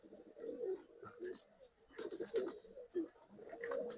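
Breeding Rekdhar pigeons cooing in a loft in Bangalore, soft repeated low coos in several bursts, faint and fairly close, with occasional higher chirps and no talking.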